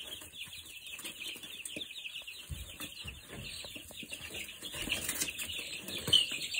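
Chickens kept as backyard pets cluck and chatter steadily at close range, with occasional wing flaps and slightly louder calls near the end; no one speaks.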